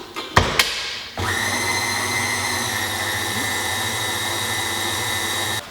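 An electric hand mixer is switched back on after a couple of clicks, whirring in a steady, loud motor drone while whisking a Christmas treat mixture, and it keeps running without pause.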